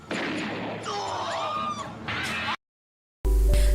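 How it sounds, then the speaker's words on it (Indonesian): Gunfire in a Stephen Chow time-travel comedy film scene, heard as a busy mix of effects and music, then a brief silence before a loud, sharp burst at the end. "Wong juga ditembak oleh Dick Lick."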